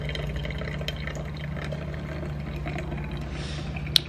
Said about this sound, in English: I'm making more coffee right now. And while I wait for that to pour down